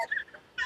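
A macaw at the Delhi zoo gives two short, harsh squawks close by, with a brief quiet gap between them.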